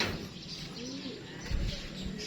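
Racing pigeons at a loft cooing softly at close range, a few low throaty coos over background noise.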